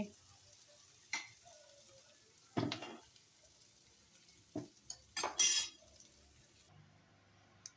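Thattu dosa cooking on a hot griddle gives a faint, quiet sizzle broken by scattered clinks and scrapes of utensils and pans, with no talk.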